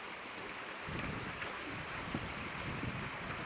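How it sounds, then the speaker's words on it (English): Steady heavy rain, a dense constant hiss with no breaks and no voices. "At least what I'm getting out of it is just a lot of rain all day."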